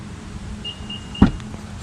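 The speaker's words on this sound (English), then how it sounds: "So we're gonna pop the trunk." The trunk latch of a 2023 Nissan Ariya electric car releases with a sharp clunk, preceded by a faint electronic whine and followed by a brief mechanical rattle as the lid lifts.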